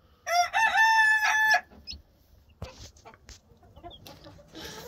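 A chicken in a coop housing hens and new chicks gives one loud, drawn-out call close by, followed by faint scattered clucks and rustling.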